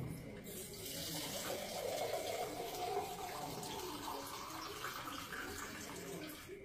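Murky water gushes steadily from a pipe tap, a continuous close rushing splash that holds at an even level for several seconds.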